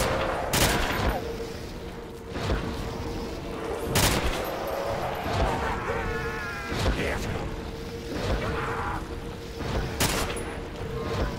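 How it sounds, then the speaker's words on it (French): Gunfire in a zombies custom map video game, with repeated sharp shots spaced a couple of seconds apart over a constant droning game background and a faint voice speaking French. "Et je tire, ça me rajoute des munitions."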